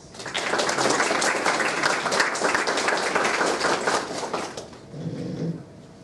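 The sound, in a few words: audience applause welcoming a speaker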